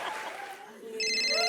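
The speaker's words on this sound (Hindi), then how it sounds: "ओहो, अब मेरा फोन आ गया।" A phone rings during an indoor comedy sketch. A bright electronic ringtone starts near the end and sounds clearly for about half a second after a soft, muffled stretch.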